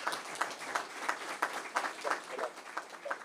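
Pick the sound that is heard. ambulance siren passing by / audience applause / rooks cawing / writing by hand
audience applause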